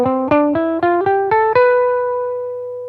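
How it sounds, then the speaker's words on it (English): A scale in the Locrian mode plays as seven quick ascending notes, the last one held and slowly fading, on a bright sustained electronic-sounding instrument. "The Locrian mode sounds like this."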